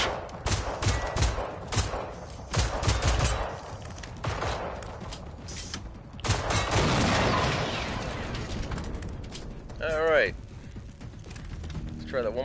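Rapid video game gunfire, bursts of shots crackling in quick succession with dense rattling volleys near the start, then sustained combat noise while someone talks over it.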